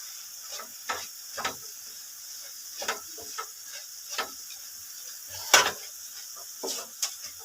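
Leftover cooked rice being stirred and fried in a pan, with irregular soft scrapes and clicks of a utensil against the pan over a faint sizzle, fairly quiet and close, with no talking.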